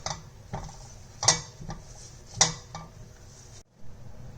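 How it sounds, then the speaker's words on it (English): Boiled potato stuffing being mashed and mixed in a bowl for aloo paratha, heard as a series of soft thuds and clinks of a utensil against the bowl, with two sharper metallic knocks, close and alone. "We'll drop that in and mash and mix all of this together."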